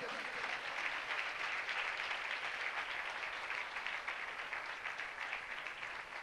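Applause for Ruhul Quds at a religious gathering: a broad wash of steady clapping from a congregation, moderately quiet and sustained without breaks.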